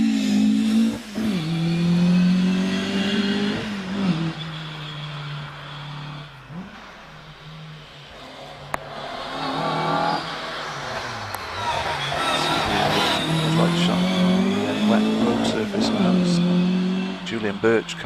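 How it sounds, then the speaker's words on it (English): A Mark 1 Ford Escort RS 2000 rally car climbing a hill at Prescott, its engine revving and shifting through gears with rising and falling pitch, mostly loud and nearby. A commentator talks over the car much of the time. "Mark 1 Ford Escort RS 2000 of Julian Birch."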